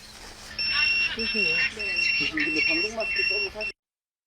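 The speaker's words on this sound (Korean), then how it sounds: "텐트 문을 채 닫기도 전에 경보음이 울리기 시작합니다." A carbon monoxide gas alarm sounds inside a tent holding a lit wood-burning fire pit at a campsite, piercing steady electronic tones repeating loudly while a voice talks over them, then cutting off abruptly.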